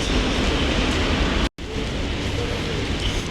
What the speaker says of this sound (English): And I think it's raining again.